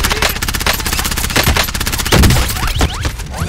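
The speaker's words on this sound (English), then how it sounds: "Where are they shooting me from?" Rapid video game gunfire crackles loud and close in dense automatic bursts, with heavier impacts near the end.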